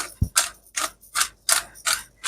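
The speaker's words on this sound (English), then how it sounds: "The sound of the crack of the black pepper." A pepper mill grinds black peppercorns in short, rhythmic crunchy bursts, about six twists, close up and crisp.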